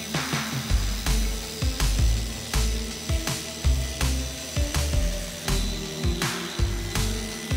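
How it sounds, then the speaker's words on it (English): A polisher buffing a foggy car headlight with compound, running as a close, loud whirring drone that is broken by regular pulsing surges roughly every second as the pad is pressed and swept. "polisher do the work, not your forearms and your elbows"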